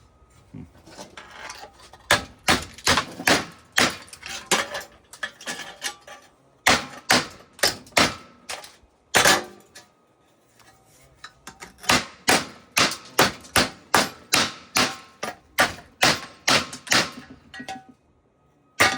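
Repeated sharp metallic hammer blows on scrap brass ring out close by in rapid bursts, pausing briefly between runs of strikes.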